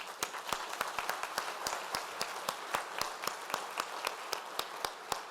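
At a university fall convocation, an audience claps steadily, with many distinct, sharp individual claps in a quick, fairly regular rhythm over a softer background of applause, heard alone without talk.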